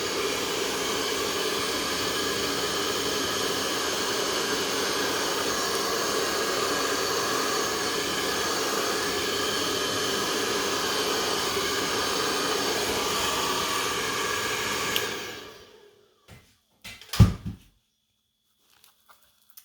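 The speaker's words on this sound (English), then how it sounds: "One more time with the blow dryer." A blow dryer roars steadily and loudly for about fifteen seconds, then cuts off, followed by a few soft clicks and handling noises.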